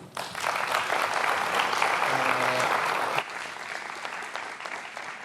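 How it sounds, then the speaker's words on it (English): Conference audience applauding two presenters after a session, a full, even roar of clapping that drops in level partway through and continues more thinly, with a brief tone and faint murmur mixed in. "Big applause for them, please."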